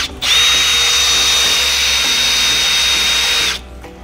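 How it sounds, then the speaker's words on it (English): A power drill pre-drills a hole into a wooden pallet stud while a goat pen is built, one steady loud high whine lasting about three seconds, starting and stopping abruptly, close by with no talk. "pre-drill a hole."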